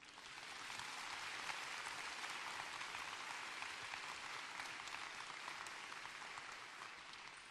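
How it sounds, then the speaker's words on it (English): Commencement crowd claps for the families seated behind the graduates, a broad, even roar of applause heard from a distance that swells in quickly and holds steady throughout. "Let us applaud them now."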